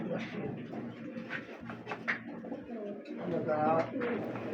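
Domestic pigeons at a home in Hajipur, Narsingdi, give soft, throaty coos that rise and fall in repeated phrases, close by, with people talking over and around them.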